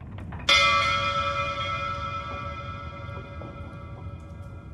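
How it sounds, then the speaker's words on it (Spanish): A single loud strike of a bell in the horror video game Layers of Fear, with a sharp onset and a long, ringing, slowly fading tone in an otherwise quiet setting. "Tocar la campana tampoco sirve de nada."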